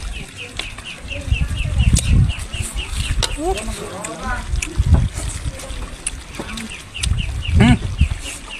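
Ducks call repeatedly amid a busy outdoor scene, with people talking nearby and occasional quacking or clucking calls rising over the chatter.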